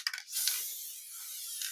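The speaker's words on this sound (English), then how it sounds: "Trying to mist the center. And this is just a spray adhesive." Spray adhesive hisses from an aerosol can in one light continuous mist lasting over a second, close and soft, after a couple of short clicks at the start, with no voices.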